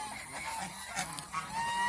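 Domestic geese on a small farm honk repeatedly in overlapping nasal calls, fairly close and steady, with no talking.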